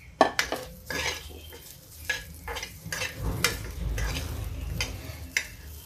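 Peas are tossed and stir-fried in a pan, with a sizzle of frying under repeated clattering scrapes and knocks of utensil against metal, the bursts coming in an irregular rhythm close by.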